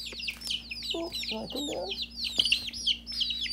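Baby chicks cheep in a steady, high-pitched chorus of overlapping chirps, close by and fairly loud, while a person speaks softly to them.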